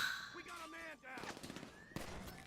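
Shots crack out in a shooter video game, several sharp bursts over a dense, busy mix of game sound with voices talking over it.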